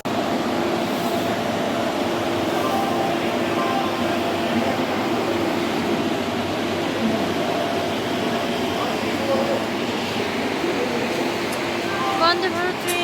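A Vande Bharat Express train standing at a station, giving a steady hum and mechanical drone with faint station noise, while people talk throughout.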